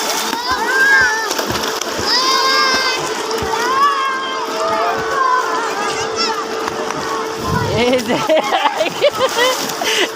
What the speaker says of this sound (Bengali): এই যে ছাত্ররা যে যেরকম ভাবে পারে খেলতেছে, আনন্দ করতেছে।